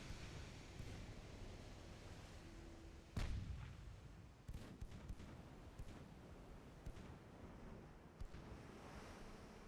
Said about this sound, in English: there's our main guns firing, or our secondaries, which are more or less our main guns